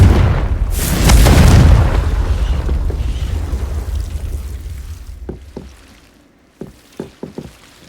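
A Confringo fire spell explodes in Hogwarts Legacy, a loud booming blast with a long rumbling decay, followed by a few short sharp thuds and impacts later on.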